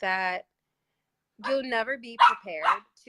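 A dog barks a few times close by in a quiet indoor room, short sharp yaps mixed in among a woman's conversational speech.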